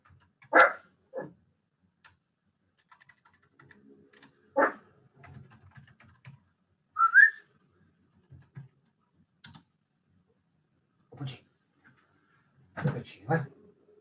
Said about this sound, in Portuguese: O cachorro está querendo participar da aula aqui.